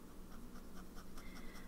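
A fountain pen nib writing with Sailor ink and scratching faintly across paper in a quick run of short, rhythmic strokes, very quiet and close.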